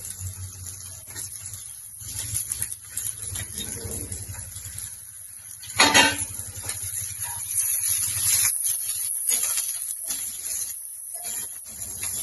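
Chillies and ridge gourd peels sizzle and hiss in a hot pan, a steady crackle that swells louder mid-way, with faint clattering.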